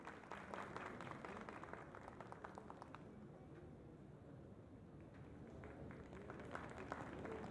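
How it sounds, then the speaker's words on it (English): Faint, distant applause from a crowd at the Hornbill Festival for performers from Assam, steady clapping that thins midway and then picks up again, with some background murmur. "A big round of applause for all the performers from Assam."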